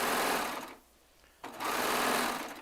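A Baby Lock Triumph serger stitches and trims fabric with a fast, steady buzzing run, pauses briefly, then starts up again loud and close.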